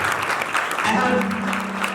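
A church congregation applauds at a deliverance service, close and dense clapping that fills the room while a voice speaks over it.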